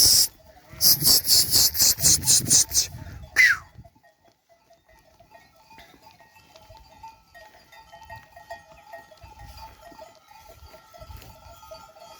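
A series of loud, quavering bleats from sheep nearby at feeding time, then quieter ambient farm noise with faint rustling and distant clanks.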